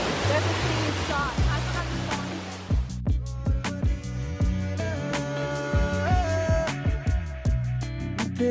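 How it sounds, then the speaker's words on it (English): A waterfall in Mauritius roars as a broad, steady rush for the first few seconds before loud music with a strong beat takes over and mostly masks it. "this waterfall is amazing"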